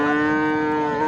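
A purebred Friesian bull at a traditional cattle market moos loudly and close by, one long sustained low call that fills the whole moment.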